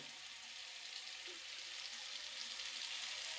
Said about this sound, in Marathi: वांग्याला शिजायला नाही वेळ लागत बरं का तेलात, म्हणून तर चांगलं फ्राय करायचं तेलात आपण वांग